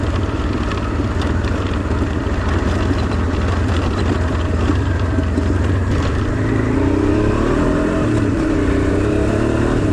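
A Honda Transalp 600 motorcycle rides at low revs along a rural trail through oak country, its engine a steady, close, continuous low drone mixed with wind rush throughout.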